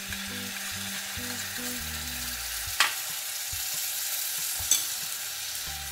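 Chilli paste, tomato ketchup and soy sauce mixed and fried in a pan for chilli paneer, a constant strong sizzle with two sharp utensil scrapes or knocks, one midway and one near the end, under a faint low hum.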